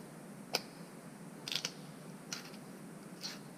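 A homemade face spanner tool tightens a hydraulic cylinder gland on a Case 590 Super-L backhoe, giving a few faint, sparse metallic clicks and ratcheting ticks against a quiet background.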